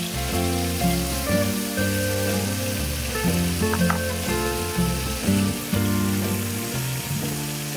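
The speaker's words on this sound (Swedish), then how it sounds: "Och de här steker jag i olivolja." Burgers sizzle steadily in olive oil on a flat griddle, a loud, continuous frying hiss with crackles and occasional scraping of a utensil, no voices.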